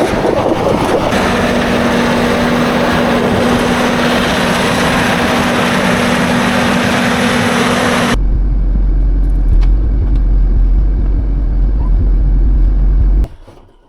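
A logging machine's engine runs steadily in freezing winter cold, a loud continuous rumble with a constant low tone, then the pitch drops into a deeper heavy drone partway through before cutting off near the end.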